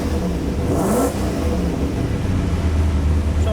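A turbocharged V8 Toyota Supra engine on a dyno drones loud and close at high revs, with a brief rising sweep and whoosh early on before settling into a steady deep roar.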